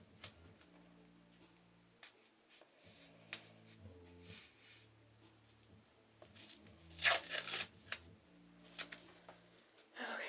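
Medical tape pulled from a roll and torn into even sectioned pieces during a PD catheter site cleaning, heard as quiet rips and crinkles over a low hum, with a sharper, louder tearing burst near the middle.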